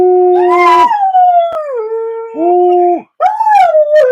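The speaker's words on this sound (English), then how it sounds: "Ah, he likes to howl." A dog howls loudly and close up, with long wavering drawn-out tones that bend downward, a brief break, then a rising howl again, with no talking.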